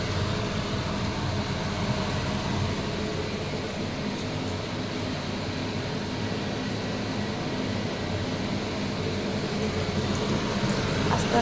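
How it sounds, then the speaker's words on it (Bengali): Pea kachori frying in oil in a small wok over a gas flame gives off a steady, even sizzling hiss that carries on unbroken and fairly loud. "ছোট কড়াইতে মটরশুঁটির কচুরি চলছে।"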